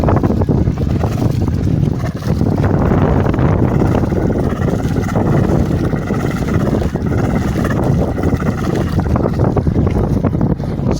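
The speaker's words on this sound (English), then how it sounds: "So that's the engine running." A sailing yacht's engine runs steadily throughout, a continuous low rumble mixed with wind buffeting the microphone outdoors, with no voices.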